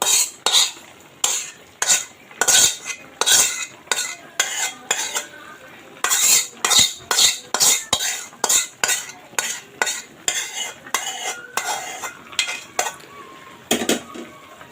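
Fried whole cumin, garlic and onion get stirred into beef curry in a pot, a rhythmic series of loud scraping clanks from a spoon against metal over a low sizzle, with no voices.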